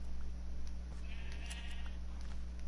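Sheep in the Minecraft video game bleat in a few short, thin calls over a steady loud low hum and background noise, with no voices present.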